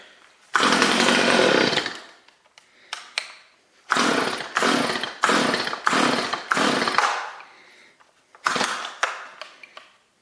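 A Stihl MS210C chainsaw, a free unit being brought back to life, revs hard at high RPM in a series of loud, close bursts, one long wide-open run followed by shorter repeated throttle blips with brief drops in between.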